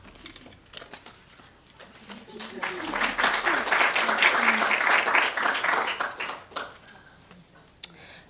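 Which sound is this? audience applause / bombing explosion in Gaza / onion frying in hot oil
audience applause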